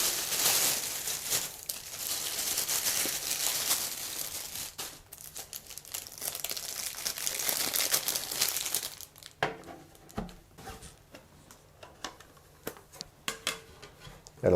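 Packaging for a DIY power bank kit crinkling and rustling as it is unboxed, dense close crackling at first, then sparser handling clicks and taps.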